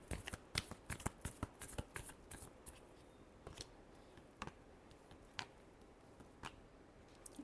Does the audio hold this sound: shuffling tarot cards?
yes